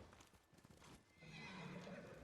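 A horse in the video game Ghost of Tsushima gives a faint whinny over soft clip-clopping hooves, quiet and brief amid low game ambience.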